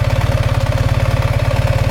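A BMW R1300GS motorcycle's boxer engine idling close by, a loud, even low throb pulsing rapidly and steadily with no talk over it.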